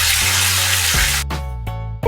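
Potatoes frying in hot oil for egg biryani, a dense continuous sizzle with a few sharp stirring scrapes and clatters near the end, close and loud.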